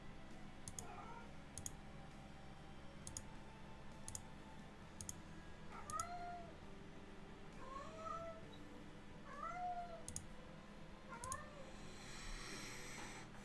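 A house cat meows several times in short, rising calls against a quiet room with faint clicking, each meow brief and moderately near.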